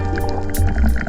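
Speargun being loaded underwater while spearfishing: continuous muffled sloshing and bubbling with squishy liquid movement, close and fairly loud throughout the short stretch.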